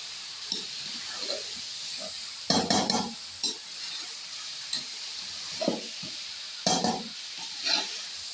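Green chillies and ground garam masala stirred in a pan for an aloo gobi curry: a steady frying hiss beneath irregular scraping spoon strokes that come in short bursts, close and moderately loud, with no talking.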